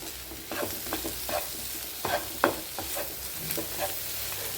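Onions and chilies sautéing in a pan for a Kerala-style chicken roast, a continuous sizzle broken by repeated scraping strokes of a spoon stirring, close and fairly loud with no voices.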